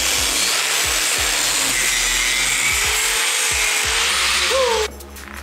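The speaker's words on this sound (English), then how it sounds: "I have to cut out these two knobs here on the tail, on the subframe." A power tool cuts two knobs off a motorcycle's tail subframe, making a harsh, continuous grinding whine with rough rasping up close, then winds down near the end.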